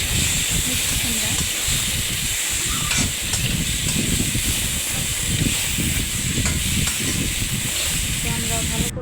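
Cut pumpkin and whole garam masala spices sizzling in hot oil in a pan, a steady loud frying hiss that runs throughout with small crackles and spatters.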